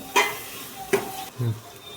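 A spoon scrapes and stirs garlic-ginger paste with chopped vegetables and green chilies in a pan, giving three distinct stirring strokes over a quiet background sizzle.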